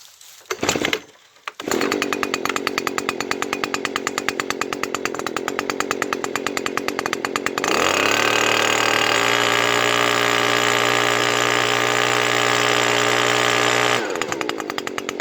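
A repaired Stihl BR200 backpack blower engine runs steadily with a buzzing two-stroke drone after a brief start, then revs up higher and holds, close and loud, with no talk.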